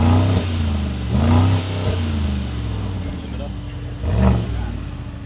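A Mercedes G-Wagen engine revs repeatedly into its rev limiter, rising and falling surges with a bouncing, cut-off top, close and loud, with people talking over it.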